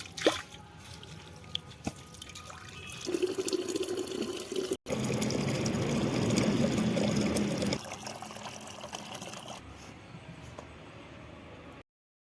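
Three glasses of water pour into a cooking pot for a pea, kohlrabi and fava bean dish. A steady rushing splash rises after a few seconds, then tapers to a softer trickle before stopping.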